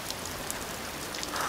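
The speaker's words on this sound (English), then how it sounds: "the rain didn't hold off for long. It's getting even heavier now." Heavy rain pours steadily in a dense, even hiss, close by, with no other sounds.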